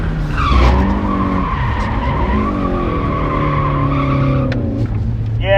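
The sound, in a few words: mid-engine car drifting with tire squeal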